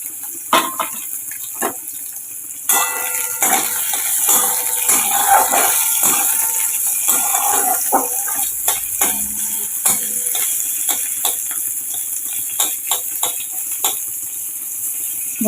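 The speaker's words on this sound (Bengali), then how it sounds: "এবার পেঁয়াজটা একটু ভাজা হোক" Chopped onion frying in mustard oil in a wok after a black cumin tempering, giving a steady soft sizzle broken by scraping stirs and clinks of the utensil, close by and with no talking.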